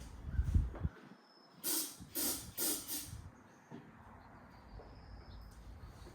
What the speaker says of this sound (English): Give it a shot of carb clean.